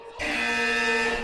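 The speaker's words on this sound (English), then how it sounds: "So many buzzers." A single sustained electronic buzzer tone sounds abruptly and holds steadily for about a second, fairly loud and alone.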